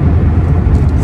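Inside a truck cab on the M74 motorway, a loud low engine and road rumble drones steadily for about a second, with no talking.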